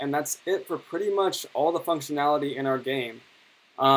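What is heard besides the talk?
No everyday noises stand out.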